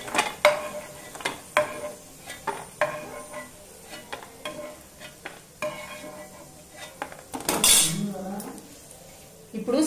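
Roasted peanuts rattle as a spoon scrapes them from a hot pan onto a plate, giving sharp metallic clinks and scrapes over a faint sizzle, with a brief louder clatter near the end.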